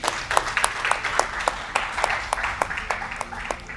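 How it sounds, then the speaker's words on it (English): A modest audience at an entrepreneurs' graduation claps in scattered, distinct hand strikes, moderately close and fairly light, with the claps forming an uneven rhythm rather than a roar. "Why don't you clap to that?"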